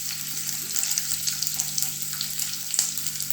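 Onions hit hot oil in a pan for a beef curry, giving a loud, continuous close sizzle with small crackling pops throughout.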